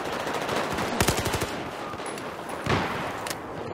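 Rapid automatic gunfire in Battlefield 4 multiplayer, loud close bursts of rattling shots with a second burst and scattered single cracks, no talking.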